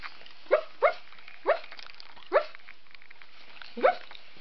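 A small dog gives several short, sharp yips spaced irregularly, loud and close, with quiet gaps between them.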